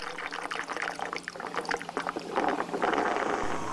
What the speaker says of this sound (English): the water whirls in on itself. The water flows in a spiral space curve.